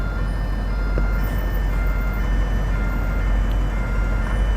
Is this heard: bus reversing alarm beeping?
yes